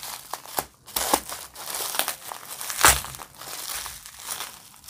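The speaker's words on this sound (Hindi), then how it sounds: "तो सबसे पहले इसको हम थोड़ा कटिंग कर देते हैं, जैसे कि हमारा वायर नहीं कटना चाहिए" Taped packaging on a bottle lamp with lights is cut open, giving close crinkling, crackling and rustling of tape and plastic in irregular bursts with one sharper rip near the middle.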